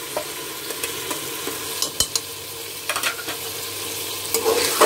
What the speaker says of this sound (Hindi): इन सबको डाल करके मिक्स कर देंगे और 2 मिनट भून लेंगे